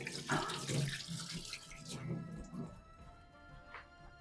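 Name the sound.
rinsing hands under a running tap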